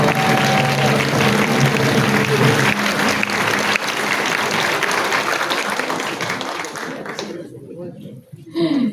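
A concert audience at the Laurentius Symphony Orchestra's 20th anniversary applauds with sustained, dense clapping for about seven seconds while someone speaks over it, before the clapping fades out.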